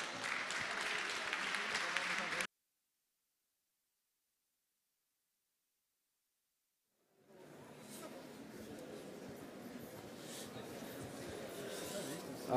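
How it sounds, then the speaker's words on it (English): Applause for the Czech Republic team at a European Resuscitation Council CPR competition: a dense burst of clapping for about two seconds breaks off into silence, then crowd noise and talk build back up. "Please give them a warm round of applause."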